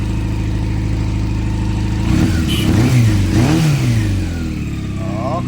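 A Honda CB400 motorcycle engine idles with a steady low rumble, then is revved twice in quick swells around mid-clip before settling back to idle, close and loud.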